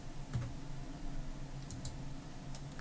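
A computer mouse clicks while someone works in a CAD program, giving a few faint, sharp, scattered clicks over a quiet hum with no talking.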